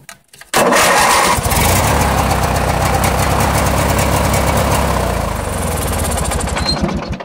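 A Craftsman lawn tractor engine cranks briefly, catches and roars to life, then holds a loud, steady, close idle with a rhythmic mechanical chug through to the end.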